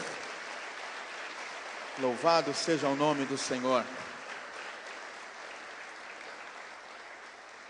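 A church congregation applauds in a steady, dense wash of clapping that runs through the whole stretch, while a voice briefly speaks over it near the middle before the clapping carries on alone.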